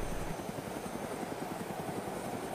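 Helicopter in ARMA 2 DayZ, a steady, loud rotor chop with engine whine filling the whole stretch, heard from inside or close by.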